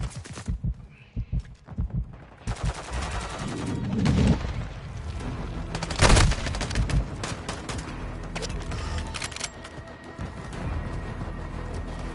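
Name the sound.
gunfire in Call of Duty video game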